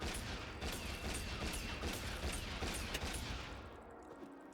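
Rapid bursts of gunfire from Honkai: Star Rail crack out in a quick repeating series, fairly faint and tinny, with a mechanical clatter between shots that eases off at the end.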